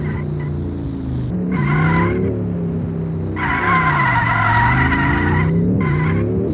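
Cars drifting and skidding in the SAKURA School Simulator game, an Audi S8 against a Sakura Motors S7 Black Series on a track, with continuous loud tire squeal and engine revving that comes in repeated surging bursts throughout.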